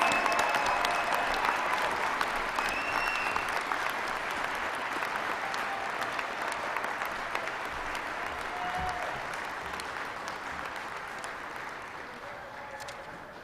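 Rousing applause from a commencement ceremony audience at SUNY Oswego, a broad sustained clapping that starts strong and slowly tapers over about thirteen seconds, with occasional faint whistles or calls.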